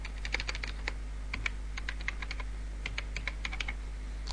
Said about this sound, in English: My typing is a bit slow because I have in one end the microphone.